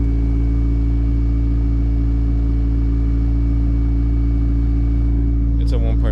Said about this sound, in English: Honestly, my car doesn't sound too loud.